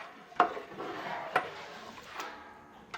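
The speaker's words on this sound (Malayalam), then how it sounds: "നന്നായിട്ടൊന്ന് ഇളക്കി മിക്സാക്കി കൊടുക്കണം." Loobikka pickle mixture stirred in a large pot for a 100 kg home batch, quiet scraping and swishing with a few sharp clinks of the spoon against the vessel at irregular intervals.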